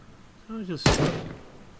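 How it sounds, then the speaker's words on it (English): A single sharp gunshot fired from a distance in the video game Dead Linger bursts out right after a brief voiced sound, then trails off in a short rumbling decay. "Wow, I can shoot from a distance."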